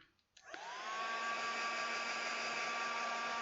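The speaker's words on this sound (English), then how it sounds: "I'm gonna have to get out my hairdryer here real quick." A hair dryer clicks on and settles into a steady, loud, high whine with a constant hum, used to dry acrylic paint on a cherry blossom tree canvas.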